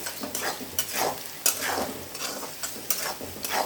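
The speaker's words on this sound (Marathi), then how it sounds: "आता छानपणे आपण याला फिरवून घेऊया" Sabudana khichdi with potato stirred in a pan, with soft scraping strokes repeating over a continuous gentle sizzle of frying, close and fairly loud.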